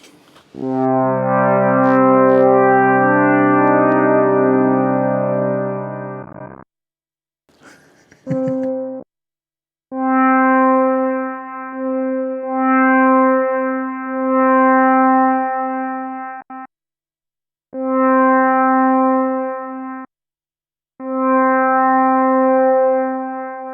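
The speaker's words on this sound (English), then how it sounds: "I want to try and get a better listen to that reverb" Sustained guitar notes through a Chase Bliss Goodhertz Lossy pedal, ringing with a washy reverb tail, played in long held phrases separated by abrupt gated silences.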